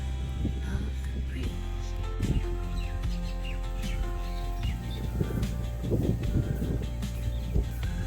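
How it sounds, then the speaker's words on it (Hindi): Birds sing and chirp on a spring evening around five o'clock outside a home, including a koel. Repeated short calls come at moderate distance over a steady low hum, with no talk. "आपको कोयल की आवाज़ सुनाई दे रही है?"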